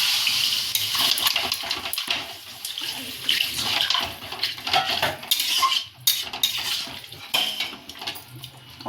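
Water pouring into a cooking pot over partly cooked fried food in a home kitchen, a steady splashing stream with clinks of pots and utensils, close and fairly loud, no talk.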